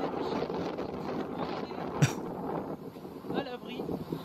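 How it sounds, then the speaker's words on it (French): Gusty wind blows outdoors in Japan during a sudden change to cold, rainy weather, a rough, steady rumble heard under a person talking. "il y a du vent, il pleut"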